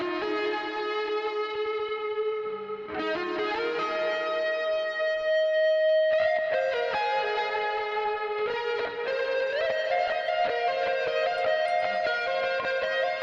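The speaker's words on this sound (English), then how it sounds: "I'm very satisfied with this cathedral reverb. It works a lot to fill that space," Sustained music with a cathedral reverb effect, layered tones washing into long echoing tails throughout, steady and fairly loud with no talk.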